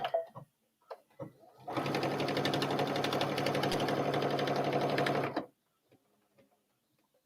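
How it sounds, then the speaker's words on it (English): A sewing machine runs at full speed for about four seconds, stitching a welt pocket on a bomber jacket, a loud, steady mechanical chatter that starts and stops abruptly. "I've grown accustomed to sewing at maximum speed or as fast as I can."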